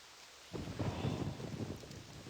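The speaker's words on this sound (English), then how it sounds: "Oh, just look at this rain." Rain and a rumble of thunder in realMyst: Masterpiece Edition on Switch, a deep rolling rumble swelling after a brief quiet start over a steady rain hiss, without talking.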